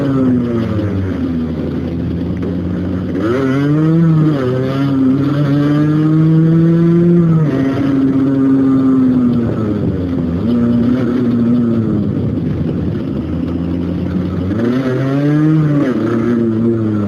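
A quad bike engine drones loudly nearby, revving up and easing off in repeated rising and falling surges over a steady motor hum, with no voices over it.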